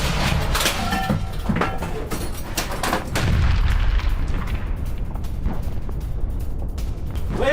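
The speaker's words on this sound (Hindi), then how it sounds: "रापिरा एंटी टैंक गन से गोलीबारी की गई है।" Russian Rapira anti-tank gun firing in combat near Donetsk, a dense run of loud booming reports and blasts, close and continuous with no pauses and no talk.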